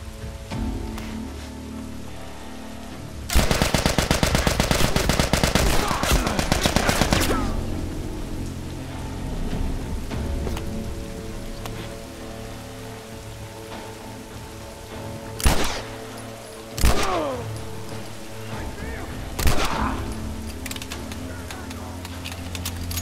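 Gunfire in The Last of Us: a dense burst of rapid shots over several seconds, then three separate loud single shots later, over a rain-like ambient game backdrop.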